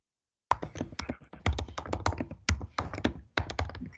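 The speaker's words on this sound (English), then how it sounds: "somebody's typing furiously" Someone types furiously on a computer keyboard during an Environmental Management Commission meeting: a close, rapid, uneven run of clacking keystrokes with short pauses.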